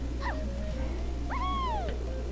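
A pet cat named Spot gives two short, high meows, the second longer and drawn out, against a steady hum.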